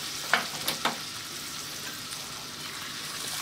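Raw spices roasting in hot oil for raw mango pickle with fenugreek, a steady soft sizzle with a few sharp clinks of the stirring spoon early on, heard alone.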